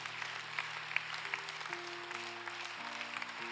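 A church congregation claps for a short stretch, the applause faint and distant beneath sustained organ-like tones.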